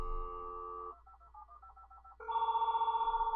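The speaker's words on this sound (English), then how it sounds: "I'm going to tell it to dial the number. I can hear it dialing." A Cisco router dials out over a phone line: a steady tone, then a quick string of about nine faint dialing pulses, followed by a louder warbling ringback tone, thin and close.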